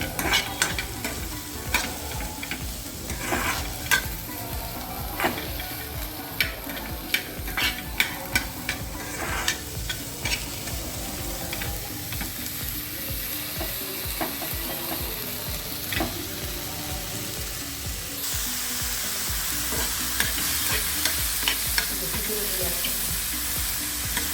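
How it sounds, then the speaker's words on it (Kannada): Chopped mushrooms shallow-frying in a pan give a steady, close sizzle, with repeated scraping and clinking as they are stirred, and a louder hiss swelling toward the end. "ಮಶ್ರೂಮ್ ಕಟ್ ಮಾಡಿ ಇಟ್ಕೊಂಡಿರೋದನ್ನು ಹಾಕಿ ಫ್ರೈ ಮಾಡೋದು."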